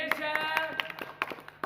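A quick run of steady, rhythmic claps at a staged magic act in which a lemon is squeezed to fill an empty glass, close and moderately loud, with a voice and tonal sounds running underneath.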